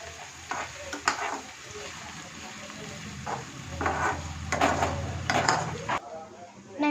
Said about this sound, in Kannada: ಈ ರೀತಿ ಫ್ರೈ ಮಾಡಬೇಕು.